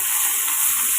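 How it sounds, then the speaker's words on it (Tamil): Capsicum sautéing with salt in a hot pan gives a steady, bright sizzling hiss that stays loud and even throughout, with no voices. "இது கூட கேப்சிகம் கொஞ்சமாக உப்பு போட்டு வதக்கிக்கோங்க."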